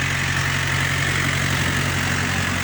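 A tractor engine idles steadily up close at a sunflower field, a continuous rumbling drone with an even throb and no voices.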